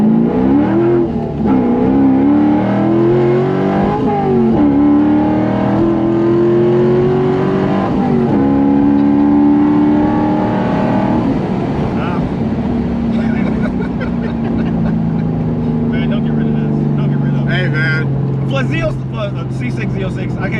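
A Corvette C5 Z06 with a solid rear axle drives off down the road and comes back, its engine note climbing and sagging through loud revving passes, with voices in the background.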